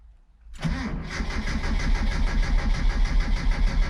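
A 1977 Sigma Lancer engine cranks and catches on its first start, then settles into a continuous rough running rumble with a pulsing idle, loud and close, no speech.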